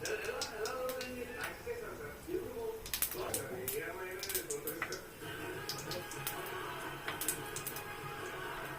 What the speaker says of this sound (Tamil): கடுகு நல்லா பொரிஞ்சிச்சுப்பா